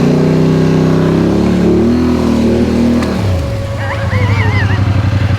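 A Polaris Sportsman 850 Highlifter ATV stuck in Texas mud roars loudly and close as its engine holds a high rev, then drops to a pulsing lower idle, with a voice briefly heard.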